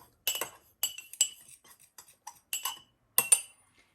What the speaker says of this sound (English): Now we are gonna use our fork to whisk everything together.